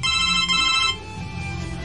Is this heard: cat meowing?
no